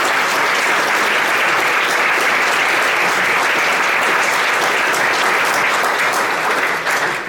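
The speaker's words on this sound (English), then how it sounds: "I'd love to have a round of applause for him" Breakfast guests at a business event applaud a donor with dense, loud clapping that holds steady from start to finish and eases off at the very end.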